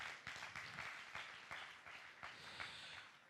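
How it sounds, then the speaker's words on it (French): A French competition final's audience applauds the jury, dense steady clapping from many hands at a moderate distance with no voices over it. "Merci d'applaudir très très fort les membres du jury"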